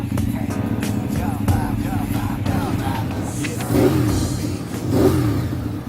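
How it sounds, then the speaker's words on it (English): A Ducati 848 motorcycle engine runs on a dyno with a steady, loud, deep drone that swells briefly in revs near the end, and faint background voices sit under it. "we've got the bike running on the dyno"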